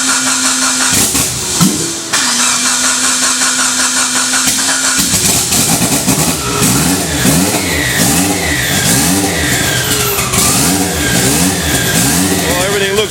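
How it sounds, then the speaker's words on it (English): A Mitsubishi Evo 8 race engine with big cams and large 1600 injectors starts up on a dyno and is blipped repeatedly, loud rhythmic revs rising and falling close by in an indoor facility. "I gotta give it a little bit of a stab of the throttle when I'm starting it here"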